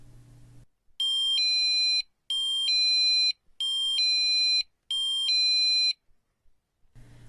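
Set to its low mode, a motion sensor receiver sounds the same two-tone electronic beep four times in an even rhythm, a little quieter than full volume, with brief gaps and no voices over it.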